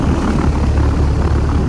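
The outdoor fan of a Bryant Legacy heat pump runs close by, a loud, steady whooshing drone with no pauses.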